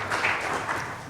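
Brief burst of audience clapping at a Squamish council special business meeting, a short steady patter of hands lasting about a second.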